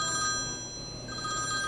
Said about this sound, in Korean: 전화벨이 불티나게 울리는 건 저희 병원 개원 이래 처음이었어요